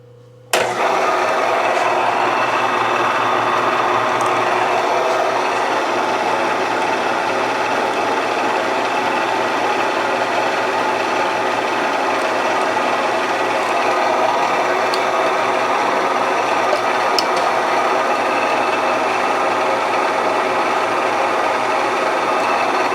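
A drill bores a hole in a motorcycle axle for a Yamaha DT2 250MX, a steady, loud whirring hum that starts abruptly and runs continuously and evenly for over twenty seconds with no talk.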